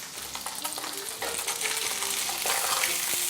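Steady, loud sizzling and crackling of fish frying in a hot pan, continuous hiss with occasional utensil taps and no talking.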